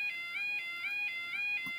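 Repeating level crossing alarm ding from the Roblox video game, a bright electronic tone pulsing about every quarter second, steady and clear with no voices over it.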